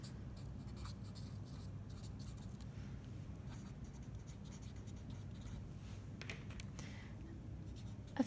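Pen scratching on paper while a bar graph is drawn and its title underlined, a faint, continuous scraping with short strokes, heard alone and close.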